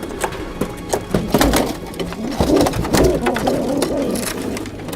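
Homing pigeons, long-distance racing birds, coo in a loft amid scattered clattering and rustling, with someone talking faintly underneath.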